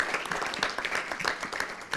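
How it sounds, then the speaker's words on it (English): A brief burst of audience applause after a conference talk, many people clapping together in a quick, busy patter. "Let's have a round of applause"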